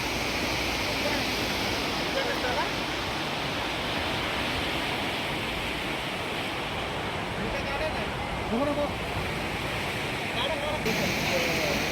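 Sea waves wash onto Ganpatipule beach at night, a steady, dense roar of surf that fills the whole stretch without pause.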